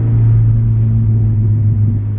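An FRS/BRZ/86 fitted with Tein Street Basis Z coilovers drives over a bumpy neighborhood road, heard from inside as a steady, loud, low engine and road rumble with no voices.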